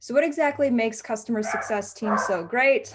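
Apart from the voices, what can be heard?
two dogs barking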